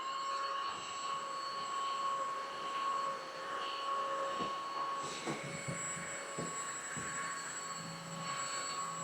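A DIFFULL 550W cordless home vacuum cleaner runs at its higher speed setting with a loud, steady whine and airy roar, broken briefly by a few clicks and knocks partway through.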